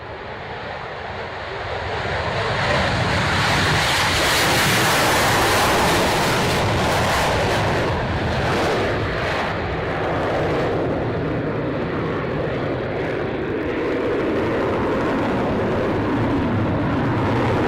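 Aircraft engine roaring up for takeoff at a flying display, a loud broadband rumble swelling over the first few seconds and holding steady, with wind buffeting throughout.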